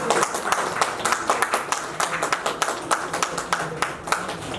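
Audience applause at an assembly hall honouring ceremony: dense, sustained clapping from many hands with rhythmic peaks, steady and fairly close throughout.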